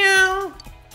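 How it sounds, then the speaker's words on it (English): A single drawn-out meow from a cat outside the Dojima Residence in Persona 4 Golden, close and clear, sliding downward at the end before brief quiet. "Ini kucing yang sering kita lihat di depan rumah kita."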